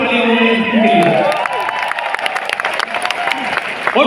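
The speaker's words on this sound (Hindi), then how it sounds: "ये पूरी टीम जोर से तालियां हो रही है टीम के लिए" A crowd applauds and cheers loudly and steadily, with whoops and shouting voices mixed in throughout.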